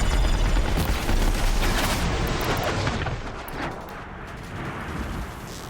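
A hostile machine in Horizon Zero Dawn launches a barrage of missiles, producing a continuous roar of rapid explosive bursts and booms, loudest at first, then easing slightly while the volley keeps crackling.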